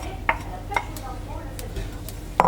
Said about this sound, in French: On rajoute donc maintenant la préparation de tout à l'heure. Voilà. On mélange bien.